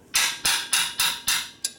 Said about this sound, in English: Now you're using a big hammer